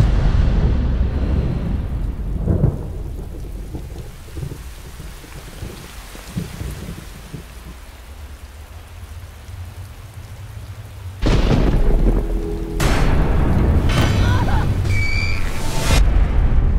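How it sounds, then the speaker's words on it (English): A thunderstorm brings heavy rain hissing steadily on surfaces while deep thunder rumbles and booms, with loud crashing bursts near the end. "There's a storm coming."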